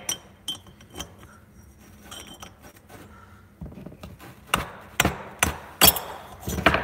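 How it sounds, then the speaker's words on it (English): A mallet strikes metal parts during head work on a Predator 212 small engine, sharp separate knocks that grow louder and more frequent toward the end, with faint handling clatter between hits. "I just grabbed a mallet"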